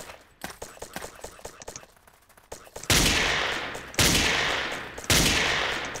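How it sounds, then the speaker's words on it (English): Gunfire in the blocky shooter Ace of Spades: a quick spatter of rapid shots, then three loud, booming bursts that each ring out and decay, close and dominant. "One more random guy shooting at people."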